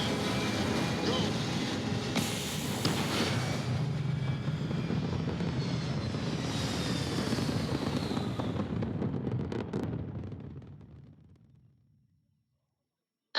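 A spaceship lifts off in the game Starfield with a loud, sustained engine roar that holds steady for around ten seconds, then fades away into silence.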